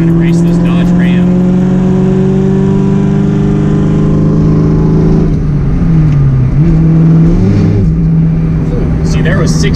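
A 600 HP New Edge Ford Mustang with a failing clutch accelerates hard through the gears while racing a Dodge Ram, its engine droning loud and close with a rising pitch and a drop at a gearchange, as a person talks over it.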